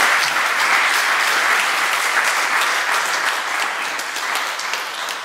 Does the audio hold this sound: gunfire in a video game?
no